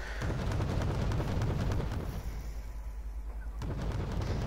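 Artillery and mortar fire in the video game Wargame: Red Dragon, a rapid patter of distant shots and thuds layered over a low rumbling bed, moderately quiet, easing briefly in the middle before picking up again.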